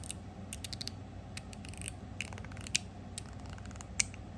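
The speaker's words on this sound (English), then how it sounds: "It has a stainless steel zipper plate, so you can hear." Quiet metallic clicking as a fidget slider ratchets over a stainless steel zipper plate, a rapid series of small sharp clicks with two louder snaps.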